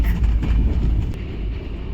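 Close rumble of a moving train bound for Konkan, low and loud, with rattling carriage noise and no speech.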